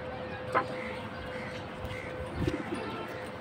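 Racer pigeons in a loft give soft, faint coos and a few brief calls against a quiet, steady background hum, with no talking.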